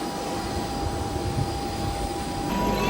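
A Lao Skyway passenger airplane on a flight to Xayaboury gives a steady, loud engine drone with a constant whine, heard from inside without pause for a few seconds.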